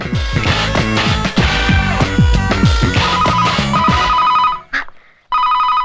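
A telephone rings loudly in a bright electronic trill, repeating steadily and then cutting out briefly before resuming, with busy sound around it.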